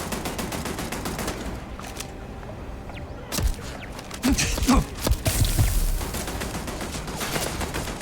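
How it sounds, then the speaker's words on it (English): An automated turret in the Starfield video game fires steady rapid bursts throughout, with the shots getting louder and denser in the second half. "Some kind of turret out there that's pissing me off"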